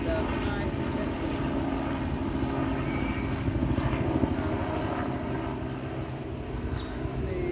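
A helicopter flies overhead outdoors on a sunny day, a faint, steady distant engine drone that swells slightly mid-way, with no talking over it.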